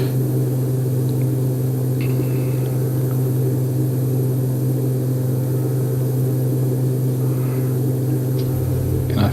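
A propeller aircraft engine in the Prepar3d flight simulator drones loudly and steadily through a flight over a Papua New Guinea valley from Woitape to Tapini. It holds a constant hum with a few faint clicks.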